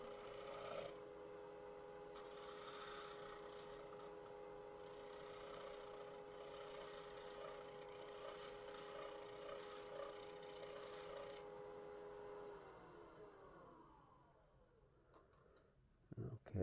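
Shear scraper cutting a thin wooden piece spinning on a lathe, a steady close rasping scrape over the hum of the machine, fading as the tool lifts off near the end.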